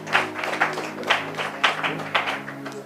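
Congregation at a French-language Bible teaching service clapping together in a rhythmic burst of applause, loud and close, with faint voices underneath.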